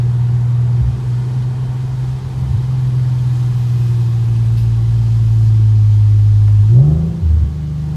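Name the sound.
Infiniti Q50 engine accelerating with exhaust crackle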